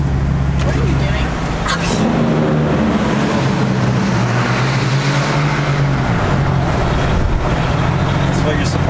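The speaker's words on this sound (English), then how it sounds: "This truck sounds so good" A 2018 Cummins 6.7 diesel pickup doing a burnout with traction control off: a loud, sustained engine roar with a shifting droning pitch and a dip around the middle. Voices are heard over it.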